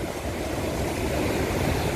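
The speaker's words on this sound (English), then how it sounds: "waves bigger than this, and they are building because obviously it's shallow, but Lisa's going around Cape Horn and going" Steady, loud roar of large ocean waves and surf in the shallow waters near Cape Horn, filling the whole stretch with continuous broadband rushing and no speech.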